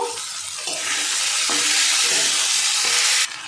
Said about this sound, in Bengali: এবার ভেজে রাখা ফুলকপিটা দিয়ে দেব, দিয়ে আবারও আমি 2 মিনিট কষিয়ে নেব।